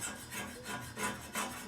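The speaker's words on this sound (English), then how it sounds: "it's not a saw, but it sounds like the heater pipe or something maybe is doing something" A heater pipe makes a rasping, saw-like scrape, repeating in slow rhythmic strokes about every third of a second, faint and steady with no voices over it.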